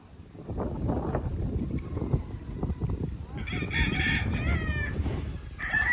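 Bull stag gamecocks crow outdoors, one rooster's cock-a-doodle-doo rising in the second half and another starting near the end, over earlier clucking and wind noise on the microphone.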